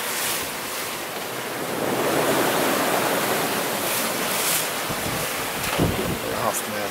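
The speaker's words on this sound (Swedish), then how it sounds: "ibland dyker det upp vita lysande vågor som bryter bakom båt" Waves break and rush behind a sailboat at night on the Bay of Biscay in 20 to 30 knot wind, a steady loud wash of surf swelling and fading with wind noise throughout.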